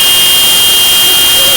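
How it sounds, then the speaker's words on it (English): Toyota C-HR crossover horn sounding as one continuous loud, steady buzzing tone that holds for under two seconds, close and alone. "And the horn sounds like this."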